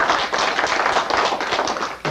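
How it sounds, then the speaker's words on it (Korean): Audience applause for a staff member who built a website, a steady mass of clapping filling the room close and loud for about two seconds before breaking off abruptly. "우리 박수."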